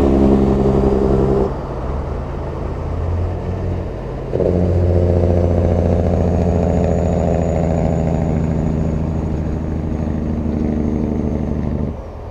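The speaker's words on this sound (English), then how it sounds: "What does that Jake brake sound like there? Well, I'll let you hear it." A big truck's Jake brake, an engine compression brake, roars loud and close as a steady droning rumble that drops briefly, then resumes for several seconds before fading at the end.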